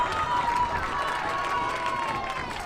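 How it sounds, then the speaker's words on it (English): Crowd at a Nevada Premier League soccer match in the Hot Summer Nights Cup, Sin City vs Villarreal, keeps up a sustained roar of cheering and noise at an even level, heard from a distance as a broad wash. "The crowd is definitely getting ramped up. This is what I like to hear."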